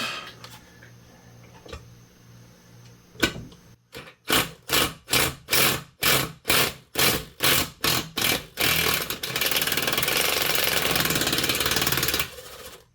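Power tool, likely an impact wrench, zipping out 12 mm counter shaft bolts held with red thread locker on a Ford Ranger transmission: about a dozen loud, evenly spaced hammering bursts, then one sustained rattling run, close up.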